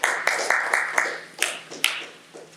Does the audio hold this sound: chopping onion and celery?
no